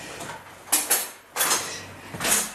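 Cutlery rattling as a spoon is taken from a kitchen drawer, three bursts of clinking metal and sliding, close and moderately loud.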